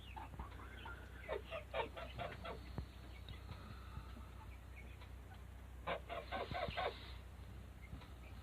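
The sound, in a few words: chickens clucking around steers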